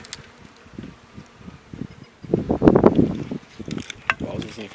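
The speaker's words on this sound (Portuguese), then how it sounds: "É aqui que as abelhas têm pegado água em grande quantidade, ó." Bees buzz around a water source at an apiary, a faint scattered hum that grows louder and denser midway, with bursts of nearby insect flight and light outdoor background.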